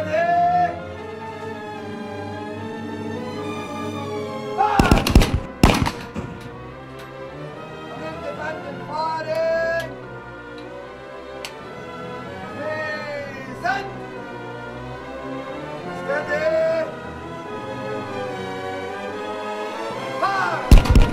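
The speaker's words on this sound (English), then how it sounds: "On independent firing!" The Armstrong 100-ton gun at Fort Rinella, Malta, fires in heavy booming blasts: two close together early on and another at the very end, with voices and quieter activity in between.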